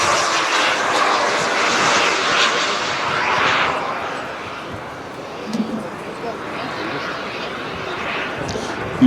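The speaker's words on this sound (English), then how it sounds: "Now we have F-89 Scorpion in the air" An RC model F-89 Scorpion jet flying at the Jet Power Messe 2013, a steady, broad turbine roar that rises and fades slightly over the clip while someone talks over it.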